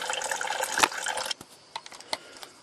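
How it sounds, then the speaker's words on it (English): Radiator coolant draining from a Toyota Tarago engine, a splashing rush of liquid that fades after about a second into scattered drips and trickles, close by. "I'll just let this empty out and continue when it's finished draining."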